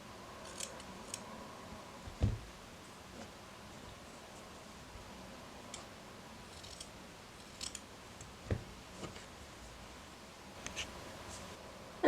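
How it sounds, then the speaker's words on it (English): Scissors trim flyaway fibres from the edge of a needle-felted dragon, giving a few sparse, soft close snips and clicks spaced irregularly over a quiet room hiss. "I'm just going to take my scissors and I'm just going to neaten up the edge and just trim off all the flyaway fibres."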